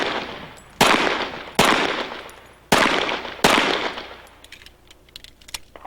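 A competitor's handgun fires at an IDPA Invitational shooting match in Columbia, Missouri: four loud, sharp shots in an uneven rhythm, each followed by an echoing outdoor decay, and then quieter clicks and handling noises.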